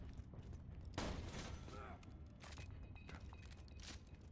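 Shotgun blasts in Borderlands 2, a couple of sharp bursts fired amid soft game background noise, one strong shot near the start and fainter reports later, no voices over them.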